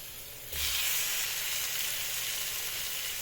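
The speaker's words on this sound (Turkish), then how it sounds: "Tavuklarımız kızarırken" Chicken drops into a hot pan and bursts into a loud, steady sizzle that continues evenly, close by.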